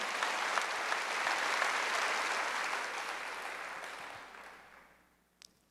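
Congregation clapping at a Wednesday worship service in a church, a full dense round of hands that holds steady and then fades away over the last second, with no speech over it.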